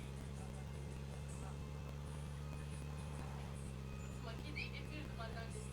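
A car drives in PUBG Mobile, its engine a steady low drone running throughout, faint and continuous with no change in pace, while people talk quietly over it.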